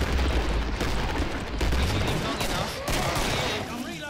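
Sustained gunfire in the co-op shooter Killing Floor, a dense loud barrage of rapid shots and booms continuing throughout, with faint voices underneath.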